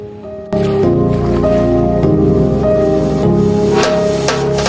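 Marinated chicken sizzles steadily in five to six tablespoons of hot oil in a pan, a loud, continuous frying hiss that starts abruptly after a brief quieter moment, with a faint tonal background underneath.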